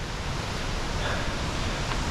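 A waterfall in a Wicklow valley pours with a constant, even hiss and rush of falling water, heard from a viewing point as a steady wash of sound with no breaks.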